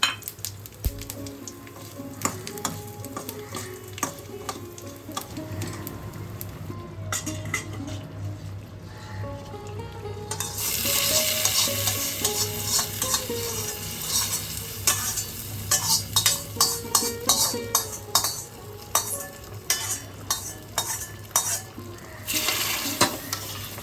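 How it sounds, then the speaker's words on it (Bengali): Asafoetida, bay leaf, dried red chilli, cumin and whole spices sizzle steadily in hot ghee, with scraping and clinking from a spoon against the pan. The frying grows louder and more crackly about halfway through. "এদিকে আমি ঘিয়েতে হিং ফোড়ন দিয়ে দিলাম, তেজপাতা, শুকনো লঙ্কা, জিরে সহ হোল গরম মশলা দিয়ে দিলাম"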